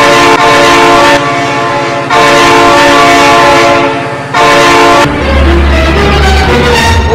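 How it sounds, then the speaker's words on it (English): A train in the BeamNG Drive video game blasts its horn in long, very loud repeated tones, followed by the rumbling roar of the train passing close by. "Oh my god, train!"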